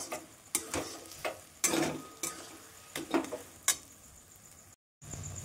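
Sabudana laddu mixture with powdered milk stirred in a pan: distinct spoon scrapes and taps at irregular intervals over a faint sizzle, close and fairly quiet, with a brief silent gap near the end.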